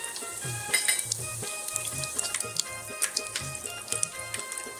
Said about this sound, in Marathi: त्यात आपण पाव चम्मच हिंग टाकून घेऊ खडे मसाले टाकून घेऊ